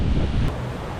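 A brief, loud burst of wind buffeting the microphone by the sea, with a low rumble of surf beneath it, under stormy skies.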